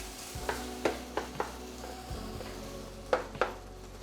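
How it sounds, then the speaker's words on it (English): Ground beef browns with garlic and onion in a pan for baked spaghetti, a quiet steady sizzle punctuated by clinks and scrapes of a utensil against the pan, with no talking. "we're gonna start adding our ground beef to this garlic and onion mixture. And we're gonna cook this until our beef is brown throughout"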